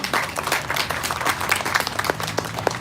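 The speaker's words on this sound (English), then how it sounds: "So give yourselves a round of applause" Audience applause at an ALS flag ceremony, a steady wash of many hands clapping that holds for about three seconds at moderate loudness.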